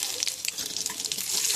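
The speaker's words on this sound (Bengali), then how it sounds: "তেলটা গরম হয়ে গিয়েছে, ফোড়নগুলো দিয়ে দেবো" Dried red chillies, bay leaf and cumin seeds hitting hot oil for tempering, a bright crackling sizzle with small pops, close and fairly loud over a short burst.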